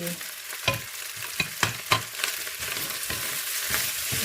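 Tomatoes tipped into seafood fried rice sizzling in a hot pan, a steady frying crackle with a few sharp clinks and scrapes of stirring, close and alone without talk.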